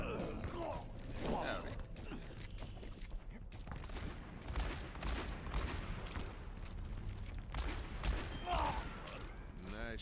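Gunfire in the video game Overwatch crackles in rapid bursts across a busy match mix, with game voice lines and effects layered throughout.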